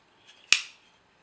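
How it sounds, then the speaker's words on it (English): A single short metallic tick followed by a brief bright ring that fades quickly as a hard steel D2 knife blade is touched, in an otherwise quiet setting. "Steels that are ran harder kind of have this ring to them"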